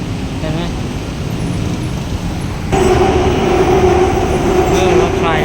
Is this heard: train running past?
yes